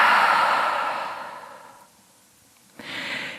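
A long, audible exhale through the open mouth after a deep breath in a yoga session, a breathy whoosh that fades into quiet, then a shorter breath follows.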